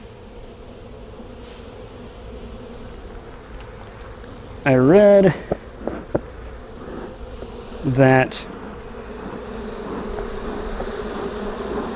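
Steady low buzzing of honeybees around an open hive during an inspection, a continuous drone under brief spoken words and a few short louder bursts of sound.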